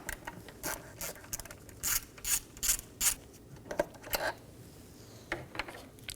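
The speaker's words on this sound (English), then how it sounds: "Now with those loosened, I'm going to remove this 8mm bolt." A ratchet fitted with an 8mm socket backs out a bolt while removing a radiator on a 2011 Dodge Durango 5.7L V8, giving bursts of quick, close clicking that pause and resume, alone with no talk.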